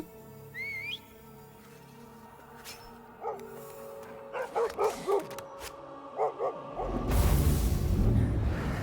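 A dog in the video game Assassin's Creed Odyssey gives several barks in quick clusters, mid-distance. A whistle-like tone sounds before them, and a loud rushing burst follows.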